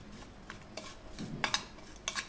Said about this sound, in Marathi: आता आपल्या कैरीमध्ये मिक्स करून घ्यायचं आहे